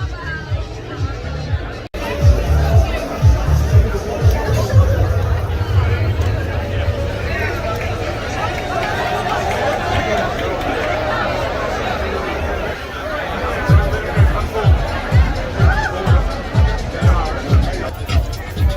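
Huge street protest crowd in Amsterdam stretching for miles, a dense, continuous murmur of many voices and shuffling with rhythmic low thumps like drumming or chanting beats, steady and loud throughout.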